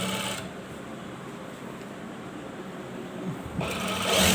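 A sewing machine stitches the hem of a gents' kameez, a steady close whirring hum that runs for a few seconds between brief pauses, with no talk over it.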